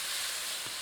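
Tomato dropped into hot masala in a pot for a langada curry, giving a steady, broad hiss of sizzling that holds evenly for under a second with no voices.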